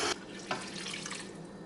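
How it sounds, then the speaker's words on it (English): One cup of water pours into a blender jar holding cashews for non-dairy milk. A sharp splash opens the pour, followed by a brief second burst, then a steady close trickling flow with no voices. "And then I'm also gonna add 1 cup of water."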